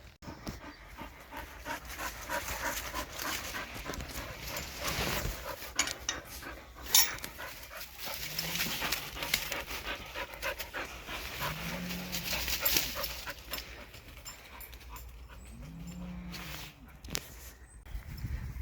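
Dog panting on a countryside walk in Warwickshire across fields where cattle have grazed, steady rapid breaths up close with occasional soft whimpers over footsteps and outdoor background.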